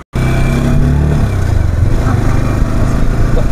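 A Yamaha R15 V4 motorcycle on a test ride, its engine droning loud and close in a continuous steady hum with slight shifts in pitch, wind and road noise blended in.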